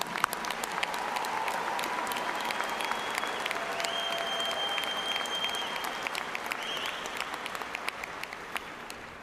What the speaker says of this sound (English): let's give these graduates a big hand of applause